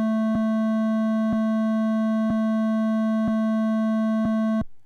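Two identical steady test tones, one phase-inverted so they no longer cancel, sound as one continuous pure pitch with a soft click repeating about once a second before stopping abruptly.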